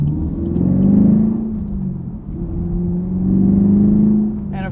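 Chevrolet Camaro SS V8 engine revving in two deep, rumbling swells that rise and fall, loud and close, with a brief dip between them.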